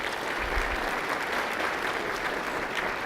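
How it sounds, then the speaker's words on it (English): Audience at a city's State of the City address gives a round of applause for the communications staff, a steady, even wash of clapping from a large crowd lasting throughout, moderately distant. "Let's give them a quick round of applause."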